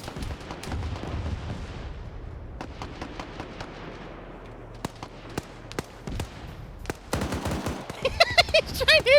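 Arma 3 gunfire aimed at a plane, a run of sharp, distinct gunshots in irregular bursts that grow denser and louder toward the end over a low background rumble, with talk in places.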